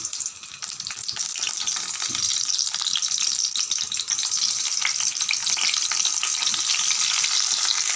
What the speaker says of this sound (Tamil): மிதமான அனலில் வச்சு நல்லா கத்திரிக்காயெல்லாம் திருப்பி விடணும்